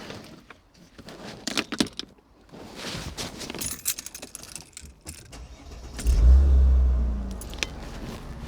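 A Mercedes SL with a Vario roof starts up: faint jangling keys and interior shuffling clicks, then the engine cranks and catches with a loud, deep surge that settles into a steady close idle.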